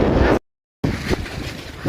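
Strong wind buffets the microphone on the Velliangiri mountain summit, a loud roaring rush that cuts out briefly and returns in uneven gusts.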